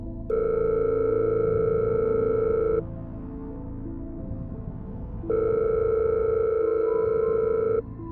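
A telephone ringback tone plays in an animated horror story while a call goes unanswered: two long steady electronic tones with a pause between them, clear and alone over a low background hum.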